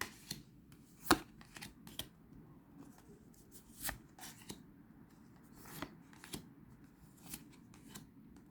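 Tarot cards are shuffled for a pyramid spread, soft, faint riffles and taps spaced out irregularly in a quiet room, with one sharper snap early on.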